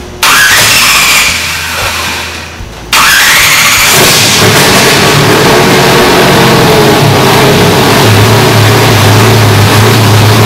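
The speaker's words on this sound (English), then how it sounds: "Now we're going to see if it fires up and goes." A car engine fed from an ATL racing fuel cell cranks, fires up with a sudden roar and then settles into a loud, steady rev and idle, close by with no talk.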